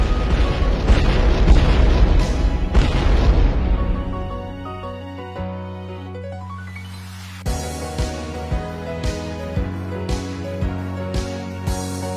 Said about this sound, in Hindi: तो ये कर देते हैं शहर के बाहर विस्फोट लगा के डायनामाइट।